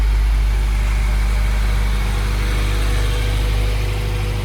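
A car with a freshly rebuilt Honda B16 transmission carrying an LS fifth gear cruises in third gear, its engine a loud, steady low drone with constant road rumble and no breaks.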